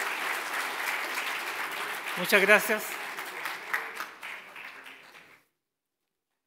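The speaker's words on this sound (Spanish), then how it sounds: "Les pido un aplauso para nuestros panelistas" A conference audience applauds panelists after a discussion on disruptive maritime events: dense clapping builds and swells, and a voice speaks briefly through it before the applause thins out and stops abruptly.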